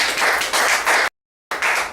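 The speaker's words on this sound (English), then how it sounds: "Round of applause again." A dense wash of clapping from a graduation crowd, loud and continuous, abruptly cut to silence for a moment before resuming.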